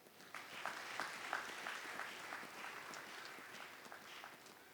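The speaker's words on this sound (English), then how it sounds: "So clap for him." Audience applause for the Mehta family of the Mehta Group, sugar industry pioneers, at a formal gathering: dense, steady clapping from a crowd that holds at an even level for several seconds.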